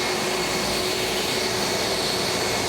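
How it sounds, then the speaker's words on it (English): A dust extraction vacuum runs alongside an HTC 500 concrete floor grinder, giving a loud, constant whooshing roar with no pauses or voices. "Start your vac up."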